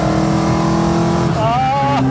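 A 1972 BMW 2002 engine drones steadily up close, then its pitch shifts and climbs briefly as the revs change near the end.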